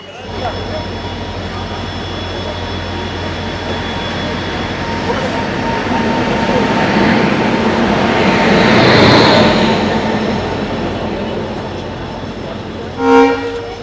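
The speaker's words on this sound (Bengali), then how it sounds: "হাজারদুয়ারি এক্সপ্রেস কিন্তু এখনই রানাঘাটে ঢুকবে" The Hazarduari Express rolls into Ranaghat station, its rumble swelling to a peak and easing off, with a brief horn-like toot near the end.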